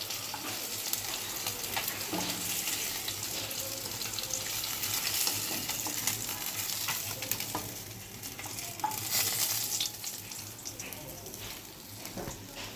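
Potatoes fry in oil for a Bengali-style rohu fish curry. A soft, continuous sizzle runs throughout, with the scrape and clatter of stirring, and faint speech is heard in the background.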